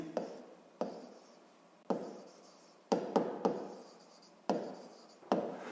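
Pen strokes scratch across paper while notes are written by hand in a quiet room, coming in several distinct bursts with short pauses between them, close and fairly soft.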